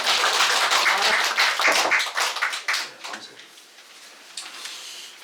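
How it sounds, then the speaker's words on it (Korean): A church congregation claps in a dense burst of applause that thins and fades out over a few seconds, with no voices on top. "박수 한번 쳐주세요."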